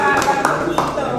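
Scattered claps from an audience at a cultural talk, a few sharp hand claps heard under ongoing talk.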